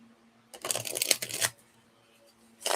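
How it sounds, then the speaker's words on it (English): Tarot cards shuffled on a table make a dense papery riffle lasting about a second, then a pause before a second shuffle starts; close and fairly loud, with no talking. "I'm tired of hearing the cards on the table."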